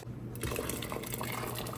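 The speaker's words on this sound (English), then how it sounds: "then you're gonna pour it back into the soup or the chowder" Blended puree is poured back into a pot of autumn soup or chowder. A continuous close liquid pour and splashing runs throughout with no talk.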